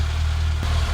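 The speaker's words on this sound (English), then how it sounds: "So we'll just let it idle for a little bit." Citroen ZX with single point fuel injection idling after winter storage, a steady low engine rumble that holds for about a second with a brief dip partway through, no voices.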